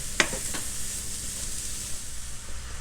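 Mushrooms sizzling in hot butter and olive oil in a pan, a close steady frying hiss with a sharp crackle and stir clatter as they go in, no talking.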